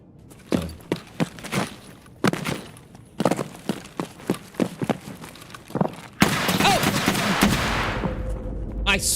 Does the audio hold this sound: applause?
no